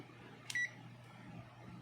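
A Zotek ZT102 digital multimeter on its continuity beep setting gives one short, clear electronic beep, set against a quiet workbench background.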